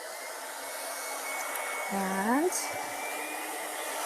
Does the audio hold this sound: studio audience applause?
no